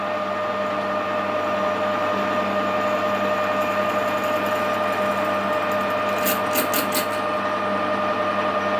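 A 6mm reamer used as a 5.8mm drill turns slowly in a machine, giving a steady, moderate mechanical whine and hum in a workshop, with a few brief sharp clicks near the end.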